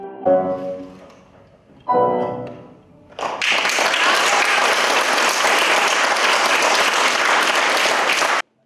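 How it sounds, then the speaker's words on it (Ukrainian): Audience in Kolomyia breaks into loud, sustained applause after Lviv musicians finish a piece, the dense clapping rising abruptly as the last musical notes fade and continuing steadily for about five seconds before cutting off. "Коломияни бурхливими оплесками вітали кожний музичний твір у виконанні перших учасників проекту Коломия вас серцем зігріє львівських музикантів"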